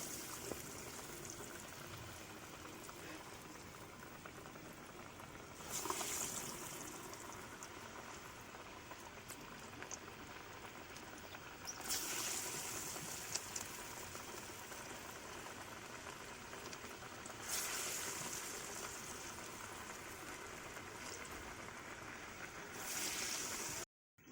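Kodaikadalai vada sizzles in hot oil with a soft, continuous bubbling crackle, rising briefly in a few louder bursts as more batter goes into the pan, quiet and close.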